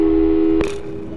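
A telephone busy signal from the video game Portal 2 sounds as a loud, steady electronic tone, then cuts off abruptly partway through and fades into quiet.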